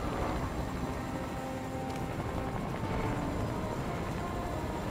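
A helicopter in the video game Fortnite, heard as a steady, loud, continuous rotor and engine drone with broadband rumble that holds constant throughout, with no voices over it.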